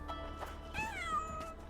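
A cat meows in the Sherlock Holmes: The Awakened video game, a single drawn-out, rising-and-falling cry sounding clearly over a low ambient game hum.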